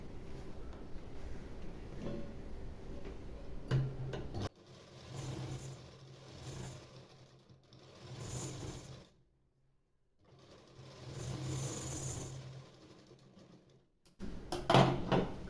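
A sewing machine stitches a double seam on a blouse puff sleeve, with several bursts of steady whirring separated by short pauses, close and fairly quiet, ending in a louder burst after a brief stop.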